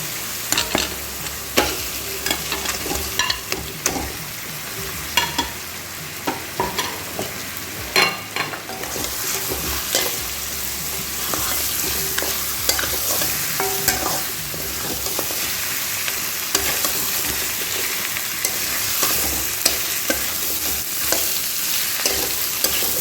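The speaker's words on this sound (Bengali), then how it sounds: "এবার আমরা এর মধ্যে দিয়ে নেব মাছের মুড়োগুলো।" Fish heads are stirred and fried in a pan for muri ghonto, a loud continuous sizzle broken by frequent scraping and clattering stirs, close up and with no talking.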